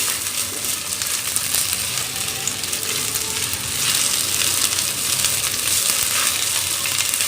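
Ginger garlic paste frying in a pan, a steady loud hissing sizzle close by that swells a little midway, with no voices over it.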